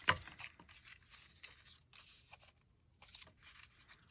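Tape is torn from a roll for a mini book in short ripping bursts with brief pauses between, faint and close, no talk.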